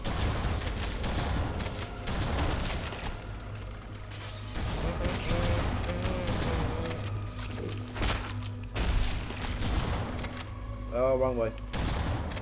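Rapid gunfire from a weapon in the video game Halo: Combat Evolved, with bursts of shots and mechanical clatter over game music, while players talk throughout.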